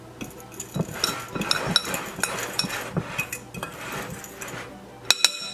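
Garlic powder and black pepper stirred together in a bowl, a utensil clinking and scraping against the dish in an irregular rhythm, close and moderately loud, with a few sharper taps near the end.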